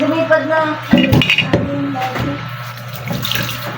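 Running tap water splashes loudly over food being washed in a sink while preparing stingray adobo, with brief clattering and a voice speaking over the flow.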